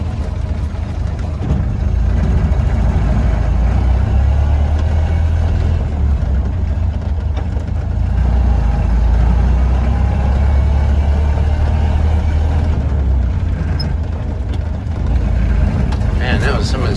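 A 1931 Ford Model A pickup's engine drones loudly and steadily while driving, a deep, rough rumble that swells and eases slightly with the shifting.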